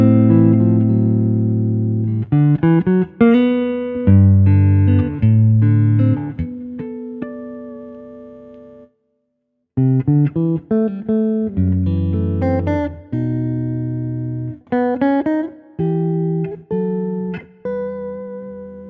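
Electric Stratocaster guitar set for an out-of-phase style tone, playing loud, bright chord stabs and short riffs with a brief pause midway, close and clean with no voices.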